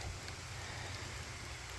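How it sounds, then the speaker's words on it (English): Steady rain pours down over a muddy, soaked trail during an all-day downpour on a long-distance thru-hike, a dense, even hiss with no breaks and no voices. "it's been raining off and on all day. Mostly on though."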